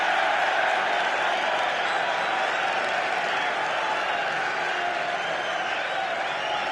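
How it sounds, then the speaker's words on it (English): Football fans in a stadium at an Arsenal versus Derby County match applaud, a steady wash of crowd clapping and murmur that holds at an even level throughout, distant and broad with no single voice standing out. "The fans applauding as the linesman's actually given it Derby's way this time."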